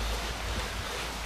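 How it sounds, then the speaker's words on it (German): A rushing river, the Chicken River, pours past in a loud, continuous broadband roar of fast water mixed with wind buffeting the microphone, close and steady with no voices. "Ein reißender Fluss."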